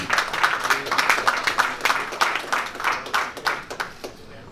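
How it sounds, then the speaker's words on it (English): Press room applause greets undefeated boxer Errol Spence Jr. at a post-fight conference, a burst of many hands clapping with crisp individual claps that thins out and fades near the end, with some voices mixed in. "A round of applause."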